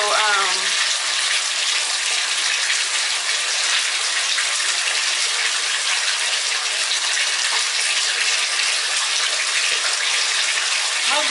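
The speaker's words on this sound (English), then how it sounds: "the water isn't too loud" Tap water gushing steadily into a bathtub, a loud, continuous hiss and splash filling the whole stretch, with a brief higher tone at the very start.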